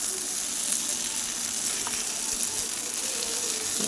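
Gunta ponganalu batter sizzles in a hot, oiled pan, producing a steady, even hiss of frying, close and moderately loud without pause.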